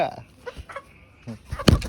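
A hen gives a sudden loud squawk near the end as it is caught, preceded by scattered rustling and faint clucks.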